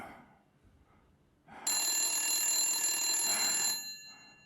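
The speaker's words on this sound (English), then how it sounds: "answer the damn phone" An old-style telephone bell rings in the Blacksad: Under the Skin video game, a loud, bright, continuous metallic ring lasting about two seconds after a quiet stretch, then cutting off.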